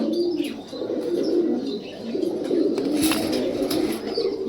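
Martin breed racer pigeon chicks cooing in soft, rolling low coos that swell and repeat continuously, loud and close, with a few faint chirps mixed in and no talk.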